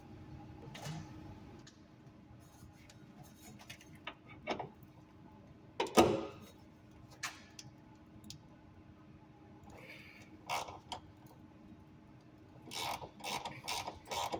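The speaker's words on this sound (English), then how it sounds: "I always tighten the fittings up a little bit to break them loose, and then I'll loosen them" Ratchet wrench clicking against a car brake line fitting being broken loose, scattered short metallic ratcheting bursts and clicks at close range in a quiet garage, with pauses between strokes.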